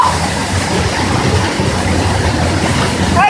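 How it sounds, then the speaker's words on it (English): Waterfall at Rifle Falls, Colorado: a loud, constant roar of falling water with steady broadband rushing and brief faint chirps near the start and end. "This is a waterfall!"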